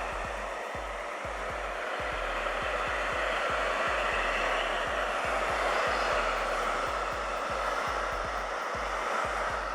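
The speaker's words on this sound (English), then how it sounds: "So here I'm going to take the hair dryer," Steady broadband whoosh of a hair dryer heating vinyl wrap on a laptop, blowing close by, constant and loud throughout, with a low rumbling flutter underneath.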